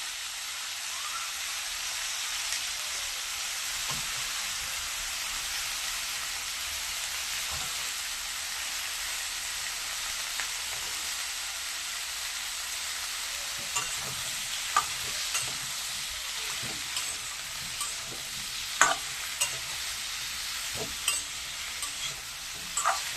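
Potato and eggplant pieces sizzle steadily in hot oil in a wok, with a dense continuous frying hiss and occasional scrapes and clinks of stirring, heard alone at close range.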